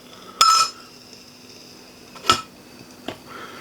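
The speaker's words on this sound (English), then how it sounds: "I'm just going to take it off the heat with these vice grips" A metal can of molten paraffin lifted off an alcohol stove with vice grips gives three short metallic clinks and clanks, spaced apart over a faint steady background hum.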